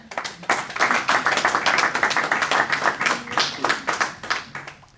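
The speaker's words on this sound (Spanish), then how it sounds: "un fuerte aplauso para él" A smaller audience at a book presentation on Miguel de Cervantes gives warm applause; the individual claps stand out as crisp, closely spaced hits in a moderately loud, continuous round.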